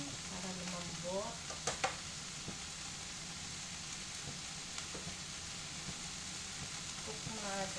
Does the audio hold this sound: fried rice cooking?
yes